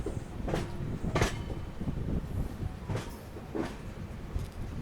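Secunderabad Repalle Express train running on a single-line section, a steady rumbling roll with several sharp clickety-clack wheel beats over rail joints, close and continuous.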